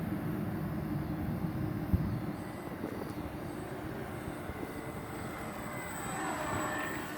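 A Sig Rascal 49-inch high-wing RC model airplane makes a low pass, its steady engine drone holding loud and continuous with a slight rise near the end, over light outdoor wind noise.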